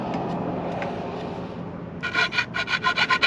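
Material for solar panel mounts is filed by hand, starting as a softer scraping before breaking into a series of loud, rhythmic rasping strokes close by.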